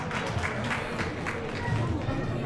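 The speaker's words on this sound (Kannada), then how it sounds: "ಆಲ್ ರೈಟ್, ಚಪ್ಪಾಳೆ ಸೆಕೆಂಡ್ ಪ್ರೈಸ್ ವಿನ್ನರ್ಗೆ." Applause for a second prize winner at an Ugadi celebration, a dense burst of crowd clapping mixed with chatter and babble, steady and fairly close throughout.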